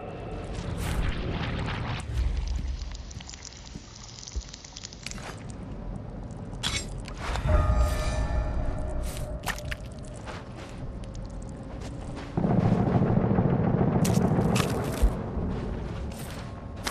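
Mortar blasts in the video game Dead Island 2, several deep booming impacts with rumbling tails spread across the stretch, mixed with whooshes and gunfire-like clatter, loud and close with no talk.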